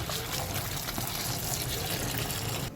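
Water pours steadily into a cooking pan of paksiw na bangus, a milkfish and vegetable stew, giving a close, continuous splashing rush with no talk.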